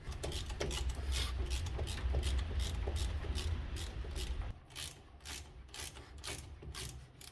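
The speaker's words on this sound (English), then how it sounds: "You need hex 7 to open these bolts." A hex 7 key turns the brake caliper bolts on a Ford Focus Mk2, a rapid metallic ratcheting click train close by, steady and regular, continuing at a slightly lighter level toward the end.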